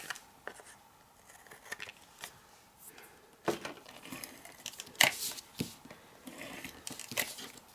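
Scissors snip the edges off a piece of craft card with scattered, quiet cuts and paper rustling, growing sharper and louder in the second half.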